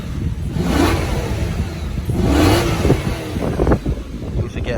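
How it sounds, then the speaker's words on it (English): Audi RS5 4.2 FSI V8 quattro revving in dynamic mode with exhaust valves open, a loud near engine rising in two swelling blips and falling back, with whooshing exhaust tone throughout. "then we'll pop the car into dynamic mode. That opens the valves up in the exhaust. Get a few revs as well."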